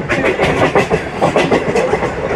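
MEMU train gathering speed on the rails, a loud rhythmic clickety-clack of wheels over rail joints with continuous rolling rumble, heard close from aboard.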